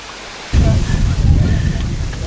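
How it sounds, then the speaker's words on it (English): Strong wind gusting across a beach in Marathon Key, Florida, a steady low roar of buffeting that starts abruptly after a quiet half second and stays loud, with no distinct wave breaks standing out. "It's real windy, but a nice cool breeze."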